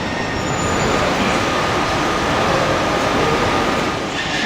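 A small train rumbles through an Austrian railway station close by, a steady, loud roar of wheels on rails with no letup for the whole stretch.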